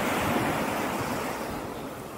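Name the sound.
sea waves on a rocky shore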